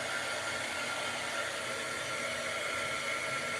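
A hair dryer blows steadily on stencil work done in Waverly chalk paint, giving a constant, even whoosh of airflow with no break and no speech.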